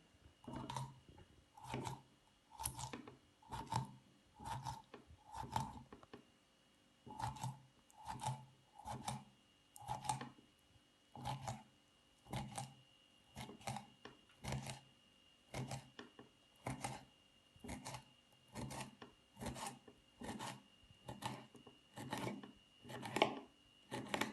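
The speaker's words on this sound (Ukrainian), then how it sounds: "Беремо і всю рибу частенько отак надрізаємо." A knife makes frequent, evenly paced scoring cuts across a whole crucian carp, roughly thirty crisp slicing strokes in steady bursts over a quiet background, close up with no talking.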